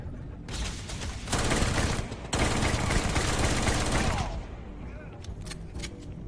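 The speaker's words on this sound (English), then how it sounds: "it has 96 magazine capacity and it's built for just shooting really fast bullets" A rapid-fire video game gun with a 96-round magazine lets off a long dense burst lasting several seconds, loud and continuous, then cuts off, leaving quieter game sounds and faint clicks.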